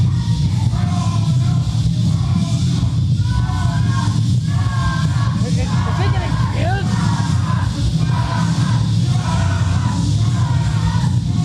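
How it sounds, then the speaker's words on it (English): A crowd at a Christmas-themed amateur wrestling event roars and shouts continuously at high volume, with a commentator talking over the noise throughout. "And you hear the scream of horror from the crowd."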